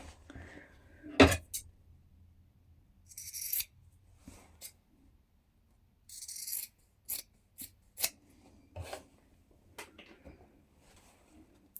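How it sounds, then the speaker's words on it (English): Scissors trim the corners of a sewn fabric shirt collar: a few separate crisp snips with quiet gaps, mixed with soft rustling of cloth close by. "Now you can give it a little trim, cut across those corners, not too close."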